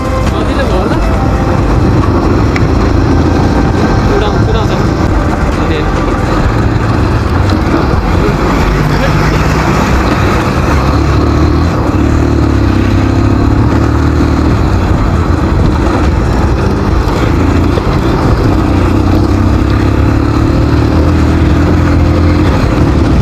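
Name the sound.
motorcycle engine while riding off-road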